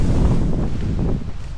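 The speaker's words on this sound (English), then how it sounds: "sure, it's a little bit windy. I don't know whether you can hear that." Strong wind buffets the microphone at a wild camping spot under dark clouds, a loud continuous low roar with gusting rises and falls, no voices.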